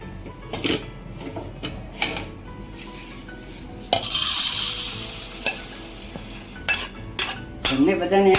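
Cooked food scraped and spooned from a pan into a bowl in a home kitchen, with scattered clinks of a metal spoon against cookware, a brief clatter and a short sizzle midway, fairly close.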